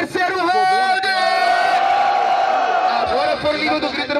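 A crowd at a rap battle in São Gonçalo shouts and whoops in one loud continuous roar, with an MC's voice calling over it.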